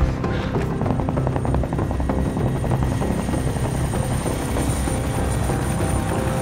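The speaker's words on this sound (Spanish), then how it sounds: "¡Pila, abogado, helicóptero!" A helicopter's rotor thumps steadily and loudly throughout, a continuous throbbing drone with no pauses.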